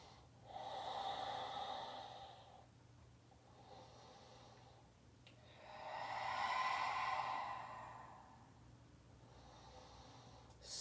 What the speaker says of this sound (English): Big, spacious Ujjayi breath.